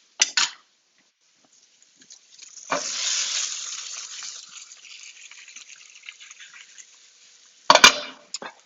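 Butter sizzles and crackles in a hot pan while cooking a meal-kit beef dish with kale, a steady sizzle swelling then slowly fading, framed by short clatters of kitchen utensils at the start and end.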